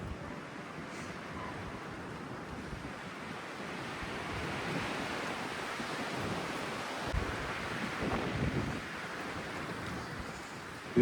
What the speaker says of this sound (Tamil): விண்டியாக இருக்குது.